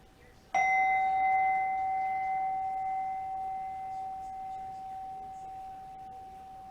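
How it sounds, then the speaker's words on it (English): A single meditation chime struck once, ringing with a clear sustained tone that slowly decays over several seconds, alone in a quiet room. "Alrighty, the second chime."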